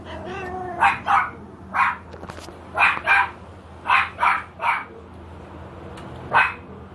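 A white Pomeranian yaps in short, sharp barks, about eight or nine close bursts spaced irregularly over a quiet room hum.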